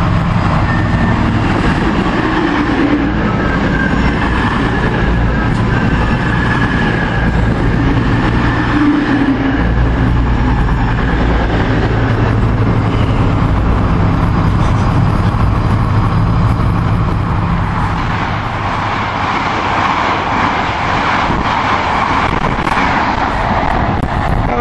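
Trains pass continuously: a class 70 locomotive hauling tank wagons, an HST and two Meridian units, a loud sustained low rumble with rushing wind buffeting the microphone and no talk.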